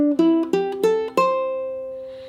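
The riff from a song is plucked on a ukulele: five clear single notes climb step by step, close and bright, and the last one rings out and fades.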